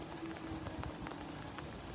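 Constant rainfall hisses evenly, with scattered drops tapping nearby surfaces; no talking, just the steady wash of rain.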